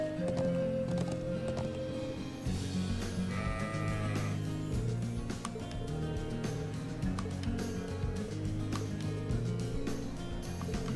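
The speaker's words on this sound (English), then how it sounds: "There's a sheep." Sheep bleating in the video game Trails of Cold Steel, a short wavering call rising briefly over continuous game music and ambience.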